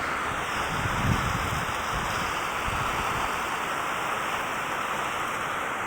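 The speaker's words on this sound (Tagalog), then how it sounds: "Lakas-lakas ng ulan." Heavy storm rain pours down steadily in a subdivision in Bacao, Cavite, a dense even hiss with a faint whistle of wind above it, loud and unbroken, with no voices heard.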